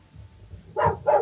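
A dog outdoors in Galena, Alaska gives two quick barks in succession, moderately loud over low background rumble.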